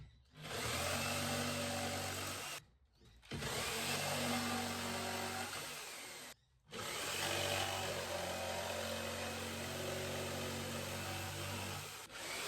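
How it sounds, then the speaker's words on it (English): A jigsaw rough cuts MDF pieces, running as a loud, steady, close mechanical buzz in three long passes separated by two brief stops. "Now we use the jigsaw to cut the pieces."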